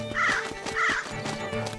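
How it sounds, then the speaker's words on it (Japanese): A crow in the Zelda: Link's Awakening video game gives two short, bright, close caws about half a second apart, set over looping chiptune-style game music. "カラスが邪魔"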